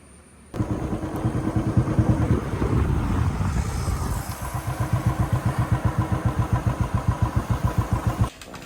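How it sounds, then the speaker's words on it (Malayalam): A motorcycle engine drones steadily on a ride toward Wayanad in Kerala, loud and close, with heavy wind rumble at first, then a pulsing, rhythmic throb as the bike cruises along. "ഇടിയാപ്പള്ളി ടു വയനാട് ബൈക്കിൽ"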